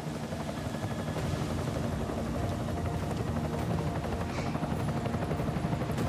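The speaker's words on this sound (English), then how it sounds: "Enemy helo sighted." Enemy helicopter in the video game Deus Ex: Mankind Divided, a steady low rotor drone filling the whole stretch at moderate level with no speech over it.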